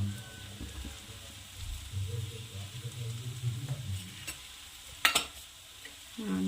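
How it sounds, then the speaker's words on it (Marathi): Dal methi bhaji, a dry fenugreek and toor dal stir-fry, gets salt mixed in as a spoon scrapes and stirs through it in a pan. Low soft scraping carries over faint sizzling, with a few light clinks from the pan, and nobody talks. "छान आता असं मिक्स करून घ्यायचं"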